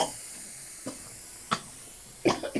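Spray can hissing in a few short bursts, faint at first and then a louder double burst near the end, close up over a steady background hiss.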